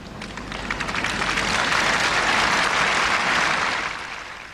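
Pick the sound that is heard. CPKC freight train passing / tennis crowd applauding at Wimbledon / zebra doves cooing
tennis crowd applauding at Wimbledon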